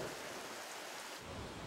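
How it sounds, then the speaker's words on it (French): A thunderstorm with heavy rain pours as a dense, steady hiss, with a low rumble of thunder swelling near the end. "des orages plus violents"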